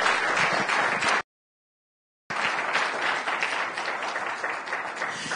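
Congregation applause during a church sermon, a thick, steady roar of clapping that drops into a sudden dead silence for about a second before resuming just as full until the end.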